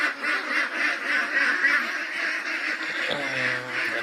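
Ducks on a duck farm quack in a steady, dense chorus from several birds close by, continuing throughout without any talking.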